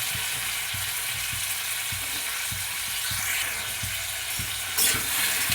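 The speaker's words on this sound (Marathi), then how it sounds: "हे आता चांगलं 5-10 मिनिटं झाकून भाजून घ्यायचं आहे।" Crabs fry in oil with turmeric and salt, giving a steady, dense sizzle that runs unbroken throughout, with soft rhythmic low thumps and a brief louder crackle near the end.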